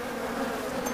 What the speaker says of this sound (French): je pense que vous devez entendre des abeilles sur le micro